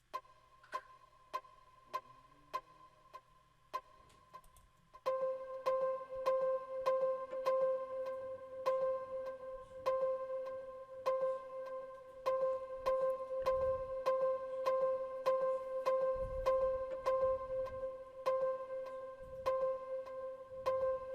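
Steady pluck synth panned left in an Afrobeats instrumental, repeating short notes in a constant rhythm, joined partway through by a louder tone and soft drums, with no talk.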